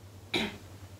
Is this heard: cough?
yes